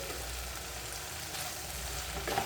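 Potato stir-fry cooking under a lid in a covered pan gives a steady, muffled sizzle that runs through the whole stretch at an even level, with no talking.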